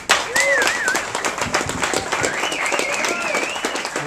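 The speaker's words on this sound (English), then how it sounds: "give yourselves a round of applause." A crowd at a community center opening bursts into sustained clapping, with whistles and cheers rising above the steady patter of many hands.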